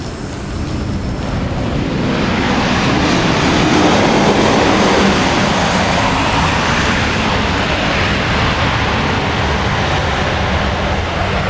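Southwest Airlines jet arriving from Austin at Dallas Love Field on a rainy morning, a loud, broad roar of engines building in the first seconds and holding steady, with no voices.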